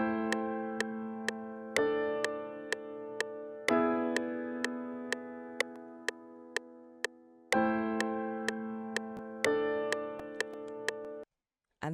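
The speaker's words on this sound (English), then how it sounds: "I started by playing this really simple chord progression, which sounds like this." A simple chord progression rings out as sustained synth chords, changing every couple of seconds, with a sharp ticking click pulsing steadily on top; no talking.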